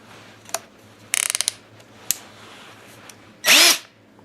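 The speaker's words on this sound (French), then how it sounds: "Avec une mèche à béton, on va voir que ça peut riper un peu au départ." Short bursts of a power drill with a masonry bit, boring a hole for garage shelves, come as a few brief whirs and a ratcheting rattle, with a louder sustained spin near the end, close-up and without talk.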